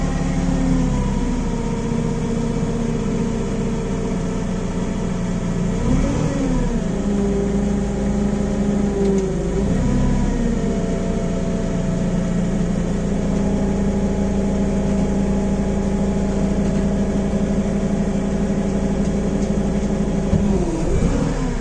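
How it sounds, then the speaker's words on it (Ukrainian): Toyota 02-8FGF25 forklift engine running steadily near idle while the mast hydraulics raise it to its full 4.7 m height, a continuous loud low drone with slight pitch dips and swells throughout. "Підіймемо на максимальну висоту нашу мачту."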